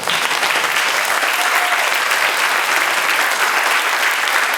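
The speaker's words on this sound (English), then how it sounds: "Give them a round of applause." Audience applause at a live on-stage conversation event, sustained even clapping from a full crowd throughout, loud and continuous with no speech over it.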